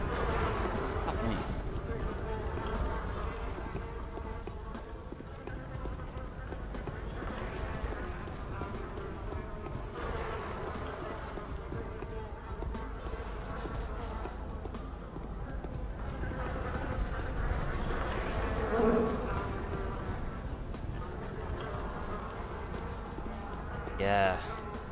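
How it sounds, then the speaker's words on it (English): Buzzing bees in the video game Pathologic form a steady droning hum that runs through the whole stretch, fairly loud and constant, with a voice talking intermittently over it. "Bees everywhere."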